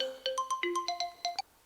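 A phone ringtone plays a bright electronic melody of about ten quick tonal notes in a steady rhythm, fairly faint and heard alone before stopping abruptly.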